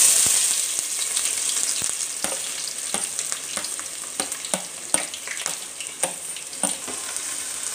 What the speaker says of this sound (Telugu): సో పచ్చిమిర్చి వేసుకొని ఇలా కొంచెం కలుపుకోవాలి